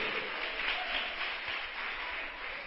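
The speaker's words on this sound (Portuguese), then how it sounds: "Você pode aplaudir o Senhor?" Church congregation applauding in a dense, steady wash of clapping, moderately loud and even throughout, with no voices over it.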